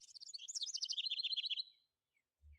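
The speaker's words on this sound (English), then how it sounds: "With their chirping, their constant chirping." Birds chirping in the video game Ace Attorney: Spirit of Justice, a bright, rapid run of tweets lasting under two seconds, then quiet except for a brief low thump.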